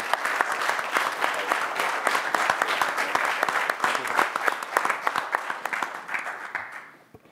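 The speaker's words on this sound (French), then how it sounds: "une bonne main d'applaudissements pour M. Paradis et son geste exceptionnel" A council meeting audience gives a full round of applause, steady and dense for several seconds, then thins out at the end.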